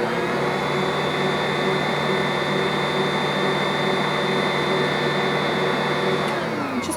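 A stand mixer fitted with a dough hook works flour into an orange fruit cake batter, giving a loud, steady motor whir that holds constant throughout with no talking.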